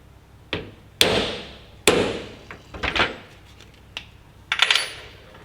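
Sharp tapping knocks while a small air hole is made in a paper carburettor gasket, about seven distinct close impacts spaced irregularly, with quieter rustles between them.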